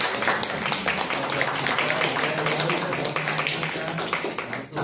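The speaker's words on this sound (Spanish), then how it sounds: "vamos a dar un aplauso" An audience claps through the whole stretch, dense and even, as a crowd applauds at a youth performing-arts gathering, fading a little toward the end.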